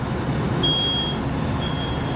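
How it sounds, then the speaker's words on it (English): A smoke detector goes off during a burn test, two short high electronic beeps spaced about a second apart over a constant background rush, with no talk. "So the smoke detector's gone off."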